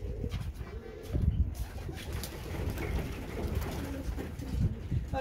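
A pet pigeon coos in soft, low, repeated calls close by, set against a steady rumbling background with no speech.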